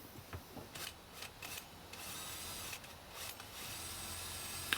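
Hole saw on a drill cutting through a piece of wood, faint rasping bursts and scraping strokes at uneven intervals, quiet and close with no talk.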